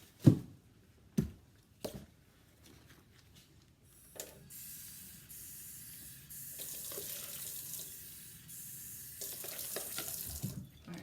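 Water runs from a kitchen sink tap, starting after a few sharp clunks and handling knocks, then flowing in a fairly close, steady rush with varying intensity.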